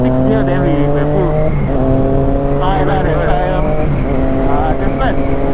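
Two motorcycles, a Yamaha R25 and a Kawasaki Z650, accelerating on a highway, engines rising in pitch with layered revving tones and brief shifts, close and loud under wind rush with riders talking.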